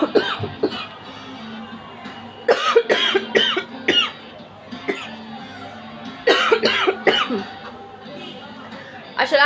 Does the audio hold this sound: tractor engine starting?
no